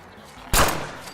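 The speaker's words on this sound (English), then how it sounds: "These gunshots apparently alerted a small group of feral ghouls in the rubble" A single sharp gunshot in the video game Fallout 4 bursts out after a quiet moment, loud and close, with a brief fading tail.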